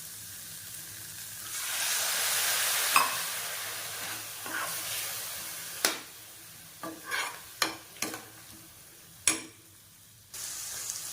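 Chopped bell pepper and spices such as coriander powder sizzling in a pan after a splash of water is added, a loud steamy hiss that fades into bursts of crackling and stirring scrapes.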